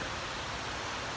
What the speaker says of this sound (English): pardon the fan noise